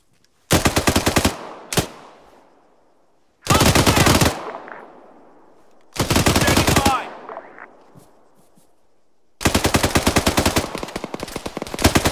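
Arma 3 machine gun fire: four long, loud automatic bursts separated by short pauses, each trailing off into an echoing tail, with no talking.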